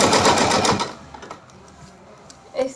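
A sewing machine runs a fast, steady finishing stitch along the waistband casing of a small Kanha ji outfit, loud at first, then dropping to quieter whirring and a brief burst near the end.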